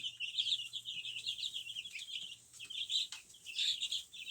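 Many small chicks peep and cheep in a dense, continuous high-pitched chorus, close by, with a faint low hum underneath.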